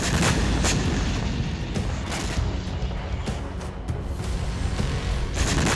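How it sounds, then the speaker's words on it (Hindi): Dense, loud booms and blasts pile up over a roaring rumble, like missile strikes and explosions going off in rapid succession. "बारूदी प्रहार, मिसाइलों की बौछार,"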